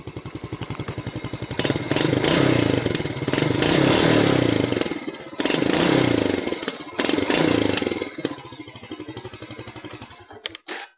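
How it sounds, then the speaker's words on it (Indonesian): A motorcycle engine revs hard with crackling, popping backfire bursts from the exhaust on deceleration, repeated in loud waves with brief drops between them. "Bagaimana knalpot ini bisa nembak-nembak ketika dilorot?"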